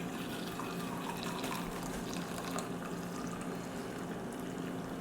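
French press coffee poured into a Yeti mug, a steady, quiet trickle of liquid running for several seconds without talk.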